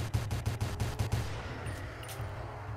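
Pistol fire in the Roblox video game: about eight rapid, evenly spaced shots over a little more than a second, loud and close, then a quieter stretch of game ambience.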